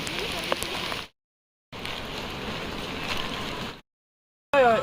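Steady heavy rain on the muddy trekking route to Dudhsagar waterfall, a dense close hiss in two long bursts broken by abrupt silences, with a brief louder burst at the end.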